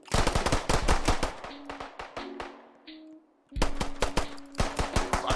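Automatic gunfire in a Roblox shooter, rapid bursts of shots fired close and loud, pausing briefly in the middle before a second sustained volley.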